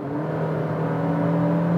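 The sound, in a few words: car engine noise entering the cabin while accelerating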